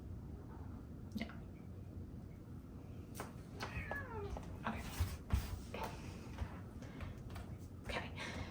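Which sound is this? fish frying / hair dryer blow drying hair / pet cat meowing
pet cat meowing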